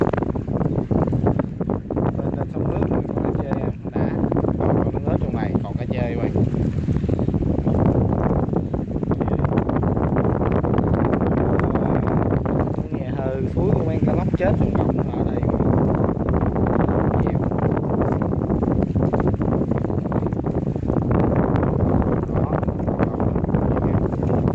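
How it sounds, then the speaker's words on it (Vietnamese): Strong wind roars and buffets the microphone on a river during a fishing trip. The noise is loud and steady throughout, with a churning rush that fits waves slapping against the water's surface. "Quá sóng gió rồi các bạn"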